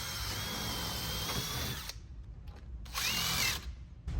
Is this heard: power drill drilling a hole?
yes